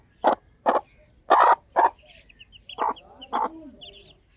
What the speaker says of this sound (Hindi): और मुर्गी भी उठी फिरदी अपने बच्चों नूं जेड़े लुकाई फिरदी